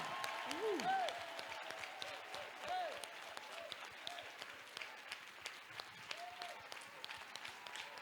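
A church congregation claps steadily, a loud, even patter of many hands that fades slightly over time, while a voice calls out over the applause.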